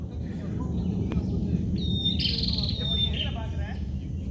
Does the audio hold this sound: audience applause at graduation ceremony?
no